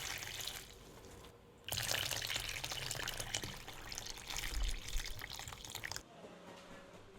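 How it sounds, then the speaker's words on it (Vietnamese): Water from a tap runs into a bowl of persimmons and salt for washing, a loud, full splashing stream that starts after a quieter trickle, keeps going for several seconds, then cuts back to a faint drip. "rồi mình thêm nước vô để mình rửa"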